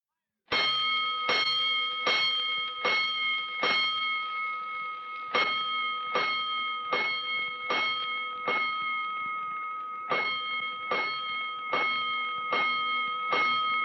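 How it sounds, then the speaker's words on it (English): A fire alarm bell clangs over and over at a steady pace on a classic radio drama, each bright metallic strike ringing into the next, loud and close throughout. "Five bells. Stand by all stations. Attention, all districts. A 5-alarm fire."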